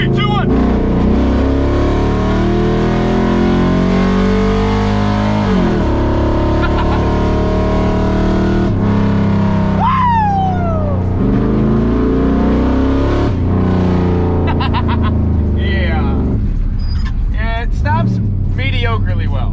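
Engine of a $2,500 budget car revving and stumbling unevenly, loud and close, with rising and falling throttle bursts while people talk over it.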